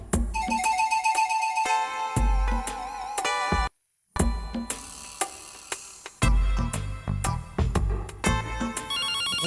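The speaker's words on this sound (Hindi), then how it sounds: "एक तो ये मरा फोन बजता ही रहता है।" A telephone rings insistently in a home, its bright electronic ringtone repeating in a melodic, tinkling pattern with a brief pause midway, loud and close with no one talking.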